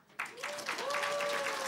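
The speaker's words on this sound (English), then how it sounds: "Oh, we're starting off with the applause early." Audience at a convention panel breaks into applause, a dense patter of clapping that swells in and holds steady, with a voice speaking over it.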